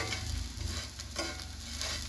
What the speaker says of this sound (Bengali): একটু তেল দিয়ে দিলাম, তেলের পুরো এটাকে একটু ভেজে নিব।